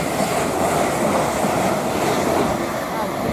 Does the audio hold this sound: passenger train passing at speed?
yes